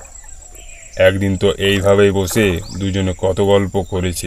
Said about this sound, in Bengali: চারিদিকে সেই চেনা ঝিঝি পোকাগুলো ডাকতে শুরু করেছে।